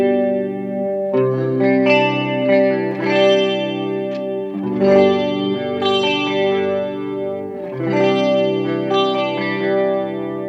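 A clean electric guitar rings through a guitar amplifier, chords strummed and left to sustain, with a shimmering chorus-like wash and no talking.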